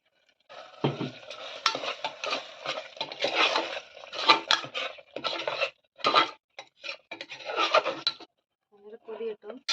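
A spoon stirs tomato rice in a pressure cooker pot, producing close, irregular metallic scrapes and clinks in quick bursts with short pauses between.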